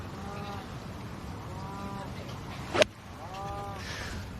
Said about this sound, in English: Chatty cow in the distance.